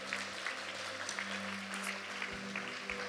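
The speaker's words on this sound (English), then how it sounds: "why don't we give God a great round of applause for those who responded" A church congregation applauds softly and steadily at a distance, a continuous patter of many hands over a low sustained tone, short and without any standout claps.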